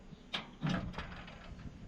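A door latch clicks on a Tadano GTC 800 crane and the door swings open with a short mechanical thud, near and moderately loud over a steady low engine hum.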